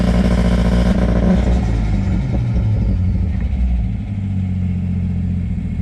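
A loud, close Ford Falcon engine roars continuously at high revs using factory launch control, with a deep rumble that eases slightly toward the end.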